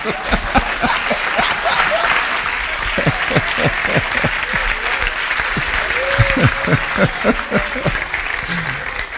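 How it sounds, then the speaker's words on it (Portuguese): A church congregation bursts into dense, steady applause at a sermon, many hands clapping loudly and continuously throughout, with voices calling out over it. "Dê um aplauso a Jesus."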